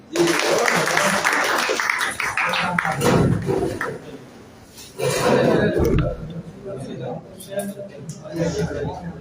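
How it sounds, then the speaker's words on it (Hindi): Crowd applause at a mushaira poetry gathering held on 15 August 2023 in Bhojpur, welcoming a poet to the stage: loud, dense clapping under voices, easing off before 4 seconds, then a second strong burst near 5 seconds. "आने वाले शायर का हम बेहतरीन तालियों की गूंज में इस्तकबाल करें।"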